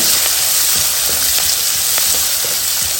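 Chopped onion frying in hot oil in a pan, a steady loud sizzle close by with occasional stirring scrapes, no voices over it.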